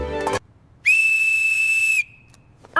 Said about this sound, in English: I have a whistle. I will blow it loud.